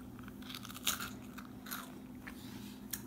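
Close, quiet crunching as someone bites and chews a baked cheese crisp made from sliced cheese, giving a few sharp brittle snaps followed by softer chewing crackles.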